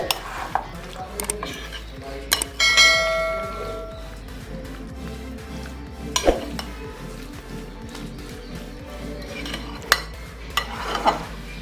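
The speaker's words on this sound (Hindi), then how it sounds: "अब इसको अच्छे तरीके से हम मिक्स करेंगे" Aloo chana chaat is mixed in a bowl, with a spoon scraping and clinking against the sides in uneven strokes, close up, plus a few louder knocks and no talking.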